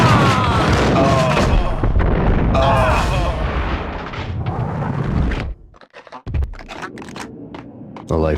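Gunfire in the game Max Payne: loud bursts of shots and booms over the first five seconds, mixed with talk, then a brief drop before scattered sharper reports and a final hit.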